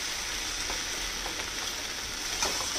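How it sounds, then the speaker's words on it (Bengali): Spice paste sizzles steadily as it fries in a pan for a potato curry, a close, even crackle with a few faint taps of stirring and no voices. "মশলাটা যে ভাজা হয়েছে, কষানো হয়েছে"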